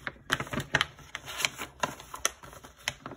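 The paper chart from a Dimensions Gold Collection Petites cross stitch kit gets folded over, giving a close, crisp run of crinkles and light taps over about three seconds.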